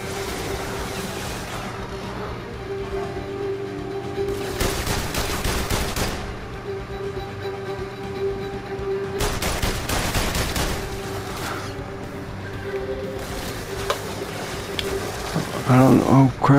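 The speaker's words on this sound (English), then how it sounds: "Who the fuck is shooting at me?" Gunfire in The London Heist VR game: repeated bursts of automatic shots rattle out in clusters across the stretch, loud and close, with a player talking between and over the volleys.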